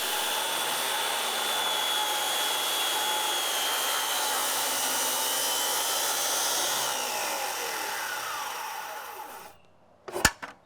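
A power saw rips a board at a 15-degree bevel for a replacement window sill, whining loudly and steadily for about nine seconds before winding down and stopping, followed by a brief clatter.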